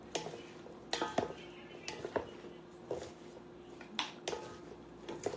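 Sour cream being mixed into cucumber coleslaw in a bowl, a utensil clinking and scraping against the dish in repeated strokes about once a second, fairly quiet and close.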